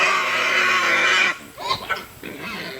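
Pigs make a dense, continuous squealing grunt that breaks off into a few scattered snorts and squeaks. They sound close and fairly loud, with no talking.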